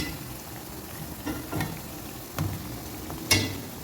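Wheat snack dough fries in hot oil in a pan, giving a steady, soft sizzle broken by a few brief stirring clinks and bursts.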